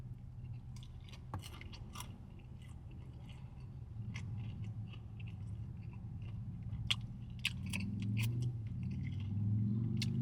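Someone chews KFC Habanero Hot & Crispy fried chicken close to the mic, with soft crunchy bites and moist mastication repeating over a low steady rumble, no talking.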